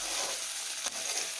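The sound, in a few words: Sidol chutney with onions frying in a pan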